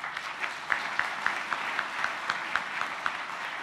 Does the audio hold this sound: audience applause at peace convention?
yes